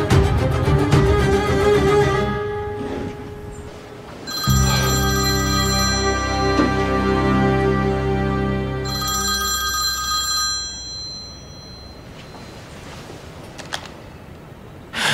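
A telephone bell rings in repeated bursts with pauses between them, loud and close, with no voices over it.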